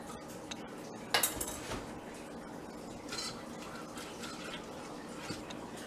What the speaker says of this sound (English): And then we're going to whisk in 2 more tablespoons.